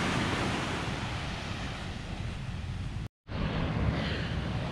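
Steady ocean surf rolls onto a Dominican beach at Punta Popy, a broad continuous wash of waves with wind noise, briefly cutting out for a moment before resuming.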